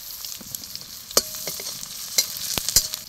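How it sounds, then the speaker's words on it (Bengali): Panch phoron spices, chopped onion, green chilli and garlic paste frying in a pan, a continuous close sizzle with several sharp clinks and scrapes of a stirring spoon, no voices. "সবগুলো মশলা ভালো করে ভেজে নিচ্ছি।"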